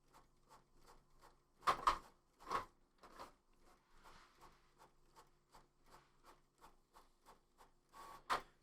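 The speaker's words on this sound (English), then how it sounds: "the draft setting prints the pages pretty fast" Inkjet printer running zine pages on its draft setting: a quick series of rhythmic mechanical sweeps and clicks as the print head travels, with several louder bursts of paper feed and motor whir, close and fairly quiet.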